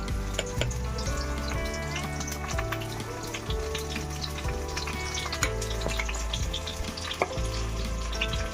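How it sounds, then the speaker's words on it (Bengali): Onions frying in a wok in preparation for a snakehead fish curry, a steady crackling sizzle with occasional clinks and scraping of a spatula, close and continuous with background music. "এখানে পেঁয়াজখানি ভেজে নিব শোল মাছ দিয়ে রান্না করার জন্য"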